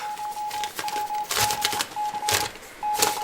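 A telegraph machine receives a telegram, a steady high beeping tone broken into on-off pulses while sharp mechanical clatters burst in between, close and prominent.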